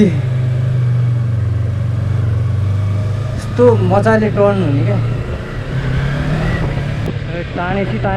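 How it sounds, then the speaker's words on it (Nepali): A Yamaha R3 motorcycle engine pulls steadily in Nepal, a low, continuous drone that carries throughout while a rider talks over it. "कस्तो रिफाइन इन्जिन क्या यस्तो सजिलै तान्ने"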